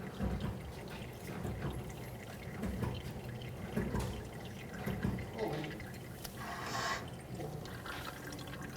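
Brake fluid drips and trickles from a bleeder screw on a 2006-2010 Hyundai Sonata during brake bleeding, faint close drips over a quiet, steady background.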